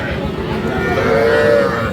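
A cow moos loudly and close by at a livestock market, one long drawn-out low call over a busy outdoor crowd murmur.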